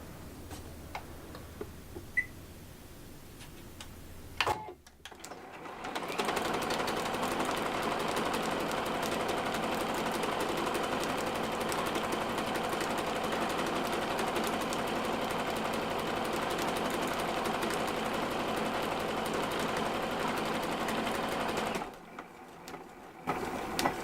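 A sewing machine stitches a word pattern, a steady, fast mechanical ticking and whirring that runs continuously for about sixteen seconds, with brief quiet pauses before and after, close and clear.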